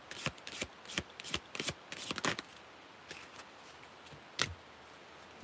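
A deck of animal oracle cards is shuffled and riffled by hand, close up, in quick bursts of papery flicks and snaps that thin out into a few separate taps, with no talking.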